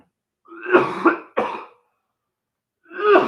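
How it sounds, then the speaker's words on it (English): Someone with a cold coughs and clears their throat in a few loud, close bursts, with short silent gaps in between. "So I was blowing my nose and coughing."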